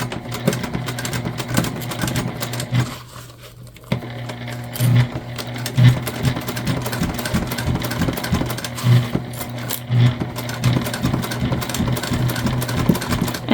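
A sewing machine stitches waxed waterproof canvas for a bucket bag with a loud, steady mechanical whir and a regular stitching pulse, stopping briefly near the start before running on continuously.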